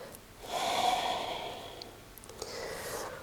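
Slow, deep breaths in and out during a morning functional exercise routine: a long exhale followed by another breath, close and soft, with no talking.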